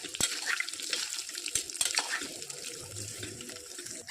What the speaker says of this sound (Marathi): आता त्यामध्ये मी आवश्यकतेनुसार गरम पाणी टाकते.